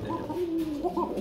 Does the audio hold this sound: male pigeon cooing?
yes